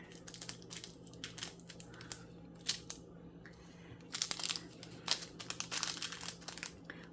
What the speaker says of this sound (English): I tape it shut.